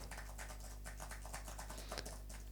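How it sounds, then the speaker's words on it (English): Typing on a computer keyboard, keys struck fairly hard, captured through a Rode PodMic dynamic microphone: a steady run of quiet, close clicks and taps over a low electrical hum, with no voices. "let's also do this with the Podmic, and I'm just going to type"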